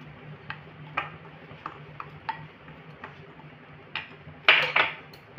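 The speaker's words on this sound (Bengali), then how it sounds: "এইভাবে অনবরত নাড়তে থাকবো যাতে না ডেলা ডেলা বেঁধে যায়" A spoon stirring powdered milk in a pan over a low gas flame, giving light scattered ticks and scrapes against the metal, quiet at first and then a couple of sharper clinks near the end.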